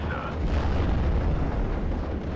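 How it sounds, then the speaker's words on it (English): Tank guns fire at a Churchill tank in the WWII strategy game Steel Division: Normandy 44. The booming is loud, dense and continuous, with no gaps and no talk. "The Panzer B2 is also going to be firing at the Churchill there."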